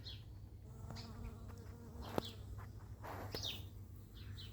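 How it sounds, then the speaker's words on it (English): Soft, steady insect buzzing from bees feeding on blossoms in a backyard garden, faint and continuous, with a few distant bird chirps and small clicks scattered through it. "So I'll leave it to the bees and let them enjoy it."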